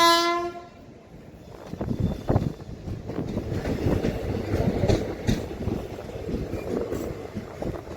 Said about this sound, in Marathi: मागून येऊन मित्रांनो नरसापूर सुपरफास्ट एक्सप्रेस ओव्हरटेक मारून पुढे जात आहे आपल्या तपोवन एक्सप्रेसला